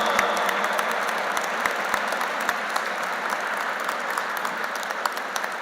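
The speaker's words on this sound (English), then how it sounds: "give a standing ovation to Honorable D. Todd Christopherson" A standing ovation at an interfaith harmony conference, a full hall clapping steadily and evenly for several seconds, dense and sustained with no break.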